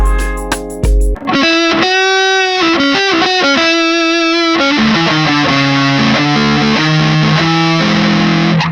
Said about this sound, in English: I might want something with a little bit more distortion to sound really like a cheesy guitar player